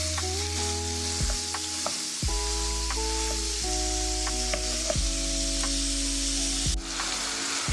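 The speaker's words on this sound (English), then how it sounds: "Now we're just going to continue to cook our ground beef until it's browned all the way through." Ground beef fries with chopped vegetables in a pan for a stuffed pepper casserole, a steady close sizzle with occasional stirring scrapes and clatter, continuous and fairly loud with no talk.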